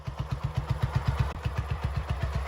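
A Velocette Viper single-cylinder motorcycle engine idles nearby with a steady, loping thump, each beat distinct and regular, running alone without voices.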